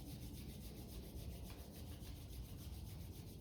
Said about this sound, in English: we'll bring hands together and begin to rub palms